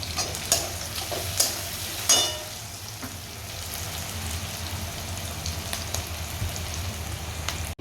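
Potato, peas and poha with turmeric fry in a pan, with a steady close sizzle throughout and a few sharp scrapes and clinks of stirring near the start.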